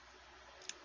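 A single computer mouse click, sharp and close, near the end of a short stretch of quiet room hiss while choosing OK in geology mapping software.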